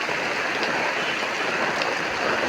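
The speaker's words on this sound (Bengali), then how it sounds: "প্রচণ্ড বৃষ্টি, অনেকক্ষণ ধরে বৃষ্টি নামতেছে।" Heavy, steady rain pours down on the Alfadanga bazaar, a dense, unbroken wash of hiss and patter filling the space with no voices.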